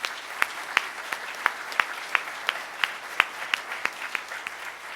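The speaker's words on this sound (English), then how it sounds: "Let's give him another round of applause." At a Rotary Club of Tulsa luncheon meeting, the room's applause comes through as sparse, distinct claps, a dozen or so sharp hand strikes spaced unevenly over five seconds above a quiet room.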